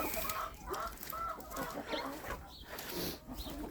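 Australorp chickens cluck in a farmyard, with several close, soft, irregular clucks and murmurs, fairly quiet and with no talk.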